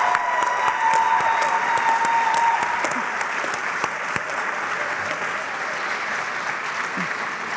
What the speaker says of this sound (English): Let's give one more round of applause to our class of 2023.